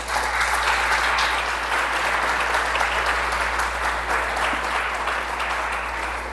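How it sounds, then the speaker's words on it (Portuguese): A church congregation gives sustained, loud applause during a sermon, a thick, continuous roar of many hands clapping over a steady low hum. "Dê um aplauso a Jesus."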